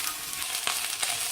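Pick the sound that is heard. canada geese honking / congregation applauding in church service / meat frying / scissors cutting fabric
meat frying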